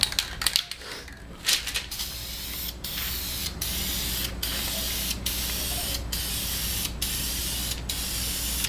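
A spray paint can hisses onto brake calipers and drums in a series of short, evenly spaced bursts, close and fairly loud, after a few clattering handling noises at the start.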